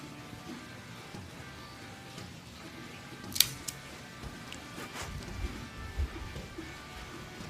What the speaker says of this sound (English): I am going to use the Cassetti multi-cutter V-cut.